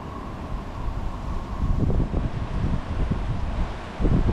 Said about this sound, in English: Wind's whipping through.